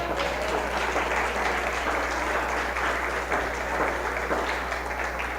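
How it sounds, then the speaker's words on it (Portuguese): A church congregation applauds steadily and loudly throughout, a dense wash of clapping with a low steady hum underneath. "Aplauda a Deus, aleluia."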